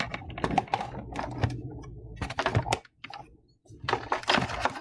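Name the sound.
typing on a computer keyboard and hitting Enter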